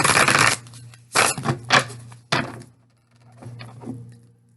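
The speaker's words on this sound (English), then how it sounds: "but I will shuffle again just so that we can, shuffle with your energy" Tarot cards being shuffled by hand up close, with several bursts of riffling and flicking separated by short pauses, then softer handling of the deck.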